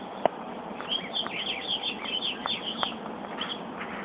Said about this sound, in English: She hears the birds, but can't find a way to get to them.